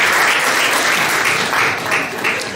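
An audience claps for a volunteer during a motivational talk, dense, loud applause filling the room steadily for a few seconds, swelling in gentle waves.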